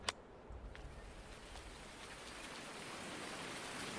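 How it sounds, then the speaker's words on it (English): Rain falls on a farm in Farming Simulator 19, a soft, steady hiss of drops that builds gently after a short tap at the start, faint and continuous. "Not a beautiful day here on the farm, but it's like 2 days in a row with rain."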